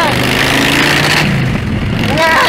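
A custom Harley-Davidson FL chopper engine rumbles with a deep, throbbing exhaust note, loud and close, while a voice talks over it.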